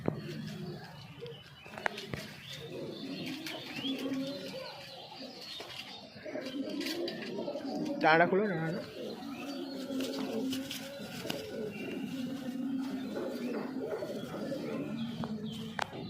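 Pigeons, including a female Abluk doyach, coo in a low, continuous murmur throughout, with occasional wing rustles and someone briefly speaking over them.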